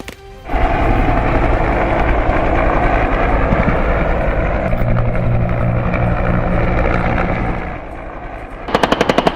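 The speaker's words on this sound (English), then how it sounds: "Cobra attack helicopters engage the targets with a high degree of accuracy" Cobra attack helicopters roar close and loud, a dense thumping rotor drone that holds steady before easing off slightly at the end.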